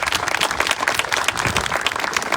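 A crowd at an outdoor ribbon-cutting ceremony for the Todd School in Aurora, Illinois, gives a brief, brisk round of clapping for the project team.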